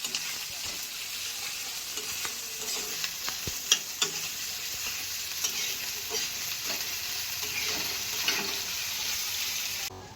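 Garlic and ginger fry in a pan, a steady soft sizzle running throughout, broken by clinks and scrapes of a utensil stirring, with no talking.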